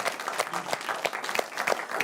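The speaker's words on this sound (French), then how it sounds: "on peut applaudir la légende Didier Drogba." An audience at a live one-man comedy show applauds, a dense steady patter of many hands clapping for about two seconds, close and moderately loud, with no voices over it.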